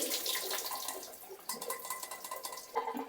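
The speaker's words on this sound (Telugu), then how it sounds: "ఇప్పుడైతే ఇందులో ఉన్న వాటర్ అంతా డ్రైన్ చేసుకోవాలి" Water pours and splashes steadily as a pot of boiled curdled milk is drained, a continuous gushing rush with a few light clinks of metal.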